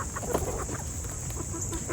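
Tame rooster with fuzzy feet clucking close by in a yard, a few short low clucks scattered over a constant background hum.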